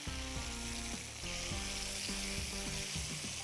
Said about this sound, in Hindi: तड़का